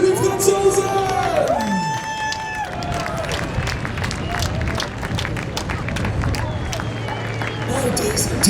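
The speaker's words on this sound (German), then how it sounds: "Liebes Publikum, wo ist der Applaus für die Franzosen?" A crowd at a tractor pulling event cheers and claps for a French team while a loud engine winds down, then dense, steady applause and whoops fill the air with a voice over the public address.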